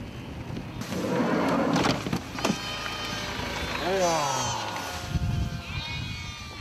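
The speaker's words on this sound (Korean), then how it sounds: "얼핏 보아도 수백 마리에 달하는 저 염소떼들은 대체 어디에서 왔을까?" A large herd of goats in the Gobi desert bleats in overlapping wavering calls, fairly near, over steady background rumble and some talking.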